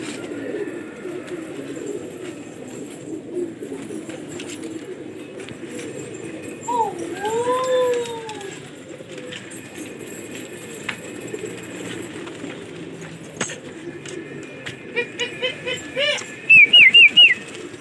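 Pigeons in a large backyard flock of mixed Indian fancy breeds, about 160 birds, give soft coos and chirps over a steady bed of distant ambient noise, with a brief burst of sharper wing flutters near the end.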